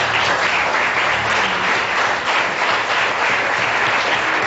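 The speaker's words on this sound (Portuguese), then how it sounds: "Aplauda Jesus Cristo." A church congregation applauding at an evangelical deliverance service, dense continuous clapping from many hands filling the room, steady and loud throughout with no pauses.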